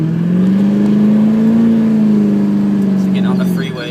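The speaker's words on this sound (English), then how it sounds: "So getting on the freeway, stepped on it a little bit" A 2003 Chevy Duramax truck running on CNG and diesel with a medium tune accelerates onto a freeway, its engine droning loud and close in a steady rising pull that eases off near the end.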